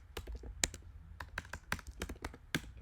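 A computer keyboard clicks under quick, uneven typing, with close, crisp keystrokes in bursts and short pauses.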